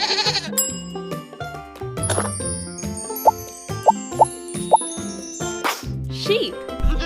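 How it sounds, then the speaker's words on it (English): A goat bleats in a farm-animal sequence for children, the cries set among cheerful background music, bright plopping accents and a voice speaking. "Goat."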